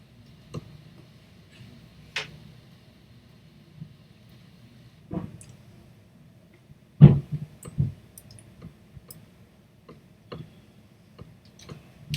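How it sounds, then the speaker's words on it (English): A clock mechanism in Silent Hill 2 gives sparse, irregular ticks and clicks over near silence, with one sharper, louder click partway through. "You know you did it right if you hear a clicking sound."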